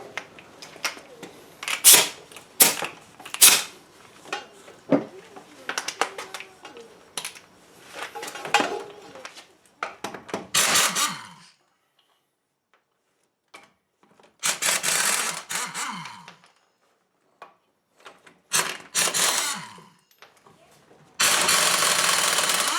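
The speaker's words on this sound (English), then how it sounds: "I'm going to get the impact hammer on the airline. We'll get these nuts off" Bursts of an air-powered impact wrench removing lug nuts on a 2004 GMC Sierra 1500 rattle in short, loud runs, separated by pauses and clanks, ending in a longer sustained burst.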